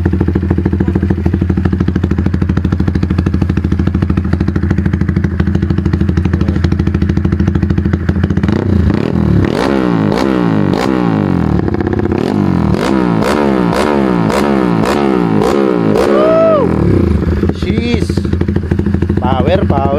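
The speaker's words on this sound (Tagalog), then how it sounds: "Tunog race bike." A red 225cc RS race-style motorcycle and a Kawasaki Z650 run at a steady idle, then a loud burst of repeated sharp throttle revs snarls and rasps before settling back down.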